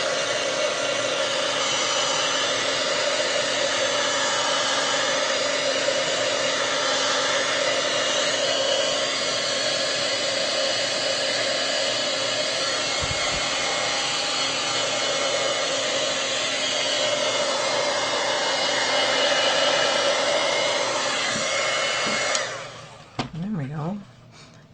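Heat tool blows a steady, loud rush of hot air over stamped ink for about twenty-two seconds, then cuts off, leaving faint rustling and handling noises.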